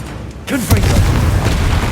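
A Confringo blast spell in Hogwarts Legacy goes off as a sudden loud boom after a brief quiet moment, followed by a rumbling burst and crackling tail.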